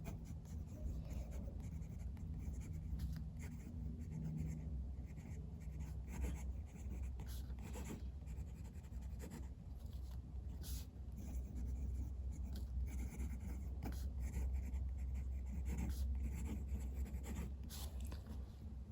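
A fountain pen nib inked with Waterman Serenity Blue scratches softly across paper in steady strokes, faint and close, with a low background hum and no talk.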